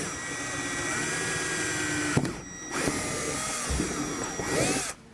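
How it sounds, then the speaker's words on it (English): A power drill bores holes into the wood of a trailer's rear door area for a door holder, giving a steady whining buzz that breaks off briefly, then resumes with a higher-pitched, faster run before stopping. "And then now we're hitting the wood"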